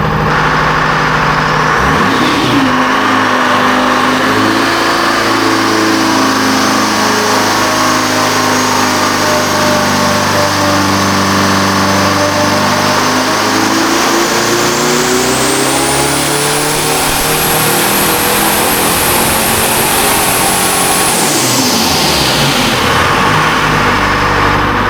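A 212 ci engine-driven 453 blower thrashing on a dyno, a loud, sustained close-up roar that climbs steadily in pitch to a high scream near the end, then drops off sharply as it winds down, with no talk.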